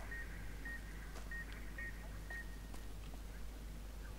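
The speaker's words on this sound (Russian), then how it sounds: "Вот где эта пищалка висит?" A beeping device in Fallout: New Vegas gives short, repeated electronic beeps at a steady rhythm, fairly faint over a constant low game drone.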